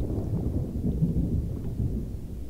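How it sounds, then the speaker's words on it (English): Thunder from a lightning strike in the pirate game Sea of Thieves, a steady low rumble with rain-like texture lasting the whole moment, fairly loud and without talk. "I can't believe I got struck by lightning."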